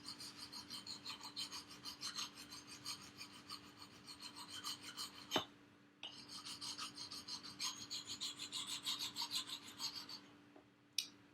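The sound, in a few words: grinding the coating off a tomahawk axe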